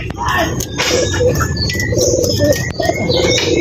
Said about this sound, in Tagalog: Ayan lahat yung alaga natin kalapati